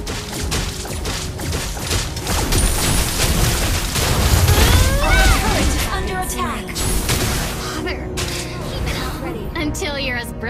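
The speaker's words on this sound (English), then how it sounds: "Your team destroyed the turret!" Turret destruction explosion in the Mobile Legends mobile game, a booming burst in the middle of dense, continuous battle effects and game voice lines.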